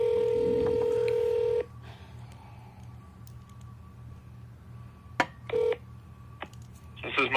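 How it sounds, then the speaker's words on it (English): Telephone keypad tones dial an extension on a law firm's automated phone line, a steady dual-tone burst followed by several short distinct beeps over a quiet line. "If you know your party's extension, you may dial it at any time."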